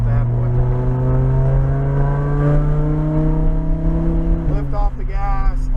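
A Lamborghini Huracan's engine drones loud and close on a racetrack, its pitch climbing steadily with acceleration, then briefly dipping and rising again toward the end, with a voice speaking over it.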